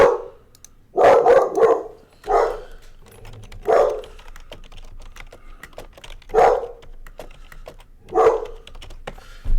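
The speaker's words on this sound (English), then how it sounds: "She loves to bark at people." A dog barking in a room, with about six loud, close barks in uneven bursts separated by quieter gaps, some barks doubled, alongside light keyboard-like tapping.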